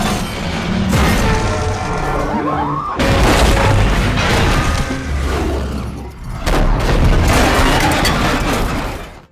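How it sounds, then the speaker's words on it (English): A massive explosion destroying an underground tunnel in an Apes movie, loud rolling booms and crashing debris in several heavy waves, with rumbling low end and scattered smashing throughout. "A massive explosion instantly destroyed the entire underground tunnel."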